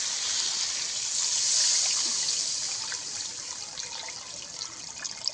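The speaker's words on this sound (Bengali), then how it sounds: "এই পর্যায়ে দিয়ে দেবো জল।" Water pours into a pan of fish curry with potato, eggplant and tomato, a close, steady hissing trickle that swells briefly, then eases into softer dribbling.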